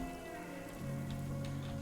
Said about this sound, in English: Oh, it's the sprinklers activating.